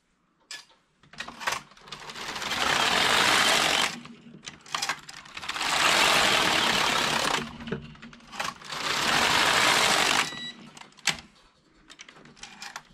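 A Passap DM80/E6000 knitting machine knits lace in three long rasping carriage passes, each a few seconds of loud, even mechanical whirring, with short clicks and handling noises in the quiet gaps between passes.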